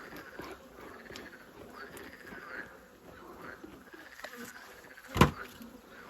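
Faint, steady buzzing of honey bees around a hive frame drifts quietly, with a soft thump near the end.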